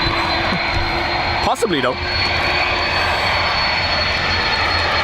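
A jet airliner departing on a windy, wet day at Dublin Airport produces a loud, continuous engine roar throughout, briefly interrupted by a short spoken remark from a nearby man.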